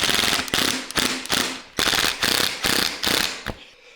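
Screws are driven into a BMW E30 racecar door panel with a ratcheting tool, giving a quick series of loud, close mechanical clicking bursts separated by brief pauses.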